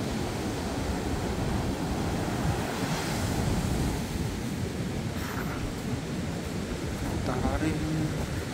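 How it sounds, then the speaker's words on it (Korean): High surf pounds Songjeong Beach during Typhoon Hinnamnor, a continuous loud roar of breaking waves mixed with gusting wind buffeting the microphone, with a voice faintly audible toward the end. "파도도 지금 상당히 높습니다."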